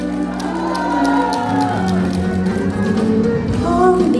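A theatre audience at a live medley show screams and cheers over ongoing music, a dense, loud crowd roar that swells steadily through the whole stretch.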